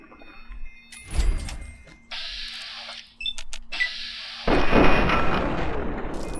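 Shotgun blasts and other combat noise in the video game Fallout 3: sharp bursts near the start, then buzzing and tonal game sounds, and a loud rumbling blast near the end that holds to the close. No one speaks.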